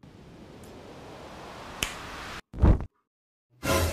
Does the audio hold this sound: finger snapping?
yes